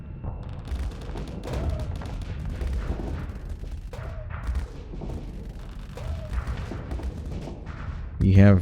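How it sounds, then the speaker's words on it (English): Flak guns fire in the space combat game Star Sector as rapid, overlapping booms and thuds that run continuously under a man's speech, with a louder burst near the end. "Yeah, you only shoot flak. That's what all this is. All this red fire is flak."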